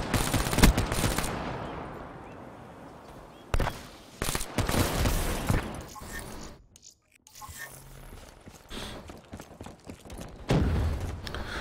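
Rapid bursts of gunfire from a weapon in Call of Duty: Black Ops 3, loud cracks and clatter in uneven clusters with short gaps, one brief near-silent lull midway.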